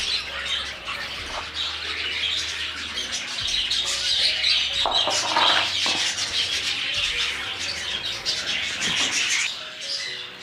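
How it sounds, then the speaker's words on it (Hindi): Cockatiels in a colony aviary call and squawk over a steady chorus of chirping birds, lively and continuous throughout, with occasional flapping wings and no voices. "ये है काकाटेल की कॉलोनी।"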